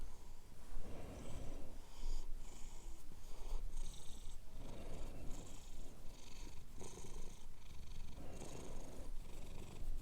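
A house cat purrs steadily up close, a continuous rumbling purr with rhythmic in-and-out breathing cycles, loud and alone without any talk.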